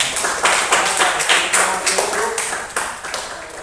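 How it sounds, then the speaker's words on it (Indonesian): Steady applause from a group, a dense patter of hand claps running throughout at a fairly loud, close level, with a few sharper taps standing out. "Tepuk tangan untuk kelompok bawah."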